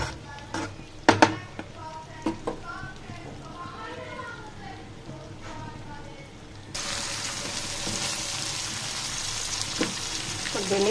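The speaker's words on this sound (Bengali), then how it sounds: "একদম আস্তে আস্তে রেখে কীভাবে ভেন্ডি ভাজি করতে হয় সেটা শেয়ার করতেছি।" Okra frying in a large wok, green and with potato, hisses and sizzles with clattering utensil scrapes, the sizzle growing louder midway, while someone talks over it.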